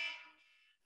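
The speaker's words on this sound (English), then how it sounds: "setting off an alarm" An alarm rings out with a short, bright tone that fades quickly.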